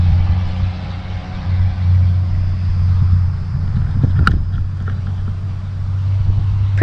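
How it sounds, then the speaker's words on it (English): A car rolls back slowly in neutral on Spook Hill in Lake Wales, Florida, giving a low, steady rumble of tires and body, with a couple of brief knocks and rattles near the end. "stop car on white line, place in neutral, and let it roll back"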